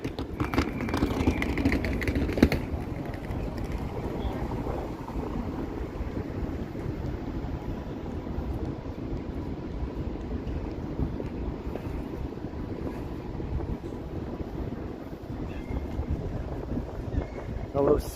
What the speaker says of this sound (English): These gusty cold winds.